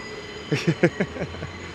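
A New York subway train runs near Stillwell Avenue station in southern Brooklyn, its wheels clattering in a steady run of rhythmic clicks and squeals over a constant rumble, fairly close and loud.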